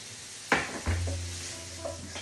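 Noodles frying in oil in a pan, a soft steady sizzle with a couple of stirring clatters and scrapes against the pan, and a low hum running underneath.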